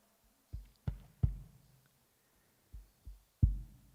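Hand drum struck in a slow heartbeat-like pattern during a talk at Deer Park Monastery: deep, resonant thumps in pairs and triplets with quiet gaps, fairly close and alone without voices.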